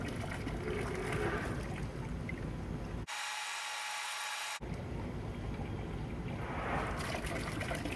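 Water trickles and splashes into a container while one gallon is collected to time the flow rate, a steady close pour running for about three seconds, then a brief cut, then the pour resuming.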